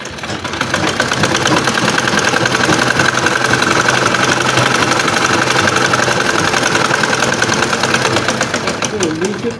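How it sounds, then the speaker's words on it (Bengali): Sewing machine running steadily to stitch a double seam on boys' pants, a continuous mid-pitched mechanical whir with fast stitching rhythm, loud and close throughout. "এখানে এসে ডাবল সেলাইটা দিব।"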